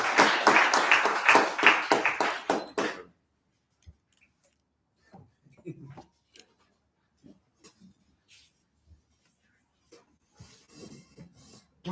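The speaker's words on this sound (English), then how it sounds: "Can we just have another round of applause for all of our ONAD hosts and for the founding director here" Audience at a peace studies event applauding, a burst of quick rhythmic claps for about three seconds that stops abruptly, followed by near silence broken by faint scattered clicks and small sounds.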